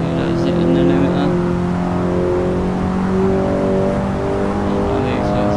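A tuned Honda Civic Type-R FK8 in the Assetto Corsa racing game holds a loud, buzzing drone against the rev limiter, steady and unbroken for several seconds.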